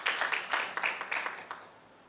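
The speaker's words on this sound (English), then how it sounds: "Can we give him a round of applause, please?" Scattered audience clapping at a national health research conference, a handful of uneven claps that thin out and fade within two seconds, fairly faint.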